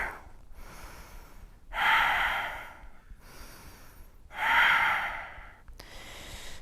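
During a live yoga class, two long, loud, deep exhalations sweep through the room several seconds apart, with quieter breaths between them and no talking.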